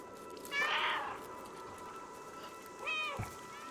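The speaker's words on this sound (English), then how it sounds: "Why do I need to be able to meow?" Cat meowing in the video game Stray, two separate plaintive meows about two seconds apart, clear and close over a soft hum of game ambience.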